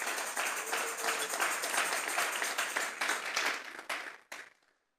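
A church congregation claps hands together during a Sunday service, dense and fairly even for several seconds before the clapping thins out and stops abruptly.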